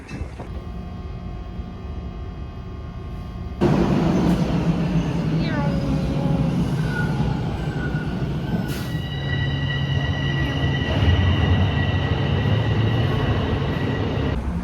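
A Toronto subway train running through a station, with a steady low rumble that jumps louder partway through, wheel squeals and tonal whines over the roar, and people talking nearby.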